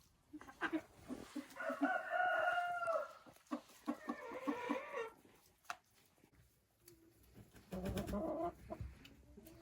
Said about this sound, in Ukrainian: Курочка несеться.